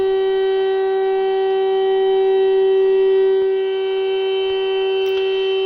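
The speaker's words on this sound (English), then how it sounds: "clearly now that we have the air raid sirens" Steady air raid sirens drone on over Kherson, Ukraine, with a sustained, unwavering tone, loud and continuous, with no voices over it.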